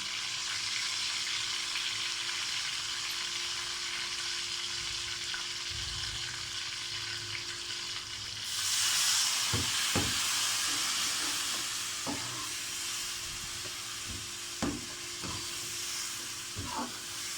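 A steady hiss of tomatoes, red chillies and garlic frying in hot oil, with a louder burst of sizzling midway and occasional soft knocks of stirring.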